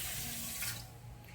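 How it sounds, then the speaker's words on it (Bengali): Water poured from a bowl into a pan of sugar for a pineapple chutney syrup: a short, steady, splashing stream, close and fairly quiet, with no voices. "আর এক বাটি আমি এখানে জল দেব"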